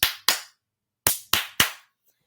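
Sharp, isolated claps or smacks on a breakfast talk show, five crisp hits in two quick pairs and a trailing single, each decaying fast with silence between, close and fairly loud.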